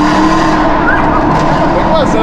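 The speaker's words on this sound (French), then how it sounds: "on fait chauffer les pneus" Mercedes-AMG car spinning its tires to warm them up, a loud continuous rumble of engine and tire scrub with short squealing chirps, while people talk over it.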